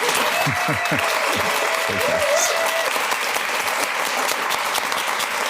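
Enthusiastic crowd applause greeting a live music performer, dense clapping with a few cheers and whoops rising above it early on, sustained and even throughout.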